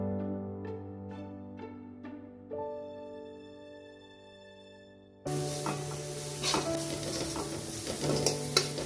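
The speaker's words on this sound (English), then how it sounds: "Now add the Schezwan fried rice masala and saute it for a minute." Schezwan fried rice masala sautéing in a pan, a loud steady sizzle with scattered stirring clatter that starts abruptly after a stretch of soft tonal music.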